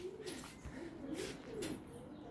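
Pigeons cooing close by in a repeated series of soft, low, rolling coos with brief chirps and rustles between them, heard outdoors without talk.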